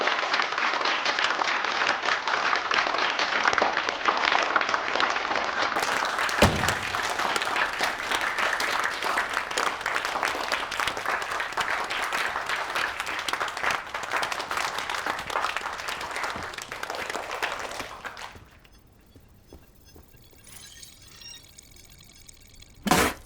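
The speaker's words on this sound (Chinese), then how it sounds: "下面就让我们用热烈的掌声欢迎裴总给我们讲讲《神将契约》" An audience gives warm, steady applause to welcome a company head on stage to present a new game. The dense clapping runs for about eighteen seconds, then fades to a quieter room with a few scattered sounds.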